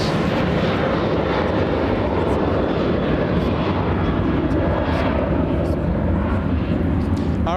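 Jet aircraft departing LAX, a loud sustained rumbling roar of engines at full power, dense and continuous across the whole span.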